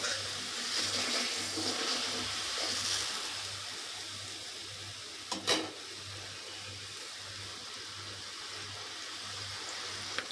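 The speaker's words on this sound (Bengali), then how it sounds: "এই যে ফুটছে টকবক করে," Salted water boils in a pot, a low, even bubbling hiss that continues throughout at moderate distance, with one brief knock partway through.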